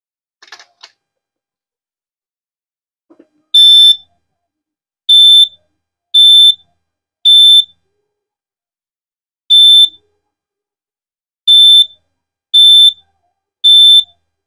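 A CrossFit box interval timer fitted with a 1 µF, 63 V capacitor gives eight short, bright electronic beeps at uneven intervals. They sound thin and fairly quiet, with a small click just before them and no talk.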